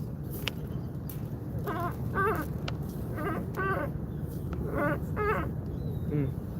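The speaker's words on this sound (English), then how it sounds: "Well, I see all the seagulls." Seagulls call repeatedly over a steady outdoor hum in Istanbul, their wavering cries coming in short clusters at moderate distance.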